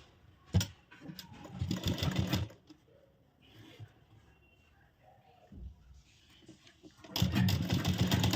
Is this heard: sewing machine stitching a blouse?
yes